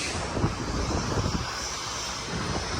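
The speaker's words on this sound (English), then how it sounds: "It's super windy right now, so you probably can't even hear me" Strong wind roars across a beach beside a motorway, a loud, continuous buffeting rush hitting the microphone with low rumbling gusts, with no talking.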